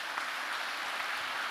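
A steady wash of clapping from a crowd at a climate emergency summit, sustained and even throughout, moderately loud.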